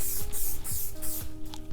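Hair spray hisses in short, repeated bursts onto lifted sections of hair, four or five close puffs in quick rhythm, fairly faint and heard alone.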